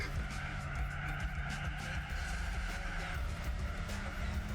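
Racing cars in Gran Turismo 4 on the Suzuka East track, a continuous close engine drone with tire squeal and skidding layered over it, steady throughout.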